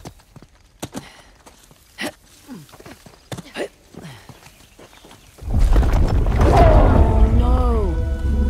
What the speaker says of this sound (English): Those explosions we heard must have triggered the collapse.